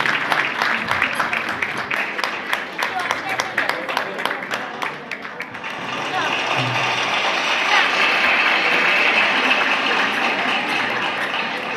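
Crowd at a Sindhi community women's honour ceremony claps, first in a few sharp, spaced claps, then swelling into steady, dense applause that runs to the end.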